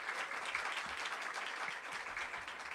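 An audience at a study-tour report ceremony applauds an alumni board director being introduced, giving continuous dense clapping at moderate level for the whole stretch.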